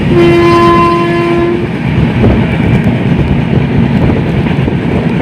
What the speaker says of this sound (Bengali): আমাদের ট্রেন এত স্লো স্পিডে যাচ্ছে